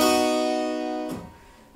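Restored harpsichord playing a sustained chord with bright, rich plucked-string overtones that slowly decay, then a quick second pluck near the end, close and alone without talk.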